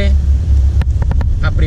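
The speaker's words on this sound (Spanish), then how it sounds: "meto el embrague, meto segunda, saco el embrague al corte y acelero ahí fácilmente" A manual car climbing or descending a slope, its engine droning low and steady, then a few quick clunks and bumps as the clutch is pressed and second gear engaged before it picks up again.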